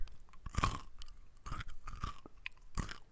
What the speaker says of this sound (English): Rate my crunch real quick.